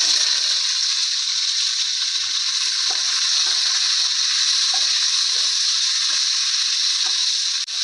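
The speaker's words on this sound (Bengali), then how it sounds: "রসুনগুলো ভাজা হয়ে গেছে, ওর মধ্যে লঙ্কা আর সিমগুলো তেলের মধ্যে দিয়ে দেব।" Green chillies and broad beans hit hot oil with fried garlic, producing a loud, close, continuous sizzle that holds steady throughout, with no voices.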